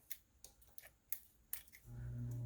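Scissors snipping through folded paper for a junk journal, several crisp separate cuts in a loose rhythm, close and fairly quiet, with a low steady hum coming in at the end.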